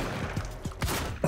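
Several quick gunshots ring out in the Quantum Break shooter game, spaced irregularly over a low rumbling background, fairly faint and close together in a short burst.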